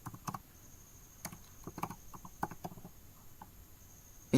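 Typing on a computer keyboard: scattered, irregular key clicks in short bursts and single taps, close and fairly quiet, with no talking.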